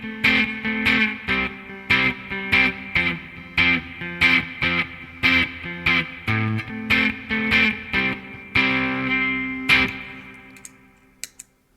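Electric guitar played through a Charlie Brown overdrive pedal, a Plexi-style drive, in a run of loud, evenly spaced distorted chords and stabs that ring out into a sustained final chord, with no talking.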